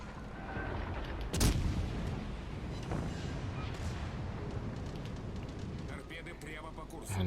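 Distant naval gunfire and booming shots in World of Warships Legends as a ship launches torpedoes during a cruiser battle, with a sharp blast near the start amid constant rumble and a commentator talking throughout.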